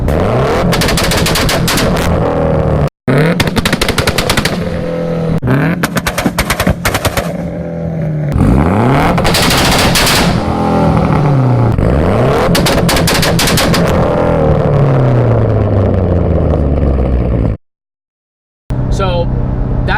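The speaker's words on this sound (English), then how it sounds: "What is going on when you're banging fire out the back of this thing?" A flex-fuel car engine revs hard while its exhaust fires off rapid, loud crackling bangs from spark-cut backfire in long bursts, with brief silent gaps between runs.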